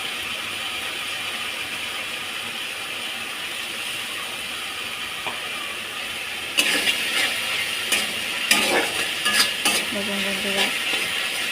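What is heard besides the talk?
masala spices frying in oil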